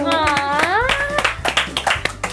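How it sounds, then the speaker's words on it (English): Children at a church kids' program clap their hands in a few sharp, uneven bursts, close and loud, with a voice speaking and singing over the start. "Can you clap for ourselves?"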